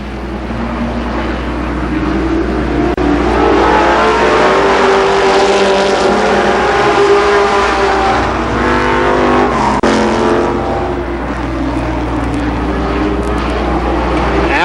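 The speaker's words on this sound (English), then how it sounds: "Craig Parker is fourth in car 72." Sprint cars race at Columbus Motor Speedway in 1992, a loud continuous roar of several engines droning and rising as cars sweep past, with one car passing close around the middle.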